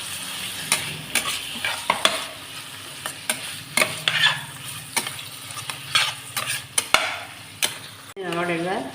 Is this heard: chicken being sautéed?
yes